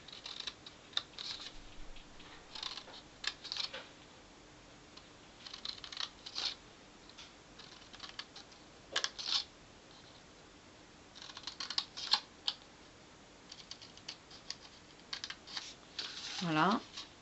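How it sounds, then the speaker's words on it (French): Scissors cut through paper while a Christmas tree bauble ornament is made, giving a series of short, close snipping and crisp clicking sounds at an irregular pace that ends in a louder rustle. "on prend les ciseaux, on se munit des ciseaux et on y va."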